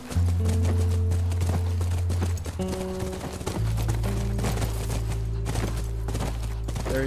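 Horse hooves galloping in The Last of Us, a steady clatter running under loud sustained game music, with a brief spoken word.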